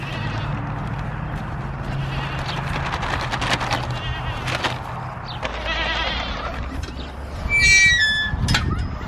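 Goats bleat several times over an outdoor rumble, short wavering cries, with a louder, higher bleat near the end.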